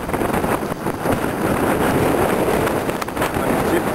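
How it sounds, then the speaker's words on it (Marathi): Strong wind in a snowstorm roars steadily across the microphone, loud and continuous, with a person talking over it throughout. "असं नुसतं थांबलं तरी इतका वारा येतो, तुम्हाला त्या ह्याच्यावर आवाज येतच असेल ऐकायला."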